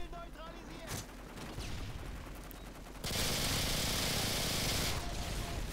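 Sniper gunfire in Modern Warfare 2, shooting through wood, comes as sharp shots and crackling gunfire, then a dense, loud burst of continuous firing in the second half, with a voice briefly talking early on.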